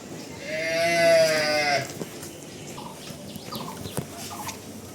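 One loud, drawn-out moo from a nearby cow, followed by quieter background noise and faint clatter.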